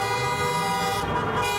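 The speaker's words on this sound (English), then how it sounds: "honking filled the air in downtown Edmonton for the third straight weekend in a row" Car and truck horns, including deep air horns, honk nonstop in downtown Edmonton during a convoy protest, a dense layer of overlapping tones that fills the street without a break.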